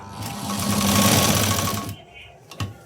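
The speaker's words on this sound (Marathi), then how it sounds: "यावरती एक शिलाई द्यायची" A sewing machine runs a fast, steady stitch along a garment sleeve seam for about two seconds, loud and close, then stops, followed by a brief soft handling knock.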